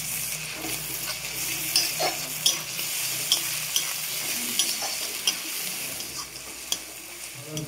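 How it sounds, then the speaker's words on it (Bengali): Chopped ginger and garlic frying in a hot pan for egg chops, a steady close sizzle broken by scraping stirs and a few light clinks of the spatula. "এবার দিয়ে দেবো আদা রসুন কুচি"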